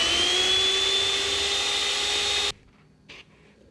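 Electric hand mixer beating keto gingerbread cookie dough as dry ingredients are added, a steady loud high whine for a few seconds that cuts off abruptly, followed by a brief faint clatter.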